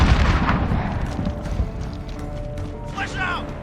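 A grenade explosion in Call of Duty Modern Warfare: a loud low boom and rumbling blast opening the moment, fading into game noise, with brief voices and radio chatter over it.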